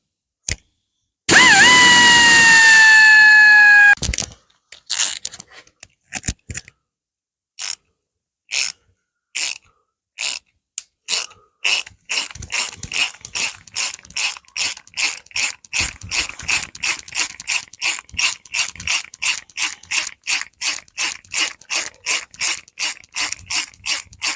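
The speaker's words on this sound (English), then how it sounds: "So I think I'll be able to get a hacksaw just in there" A hacksaw cuts through M113 track chain pins. A short burst of a whining tool comes first, then sparse scrapes that settle into a fast, even rhythm of close rasping back-and-forth strokes. No one speaks.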